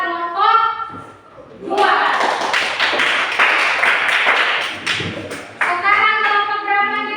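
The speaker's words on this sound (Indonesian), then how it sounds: "silakan berikan aplaus kepada kelompok" A classroom full of students applauds a presenting group, with several seconds of dense, steady clapping between a teacher's spoken lines at the start and end.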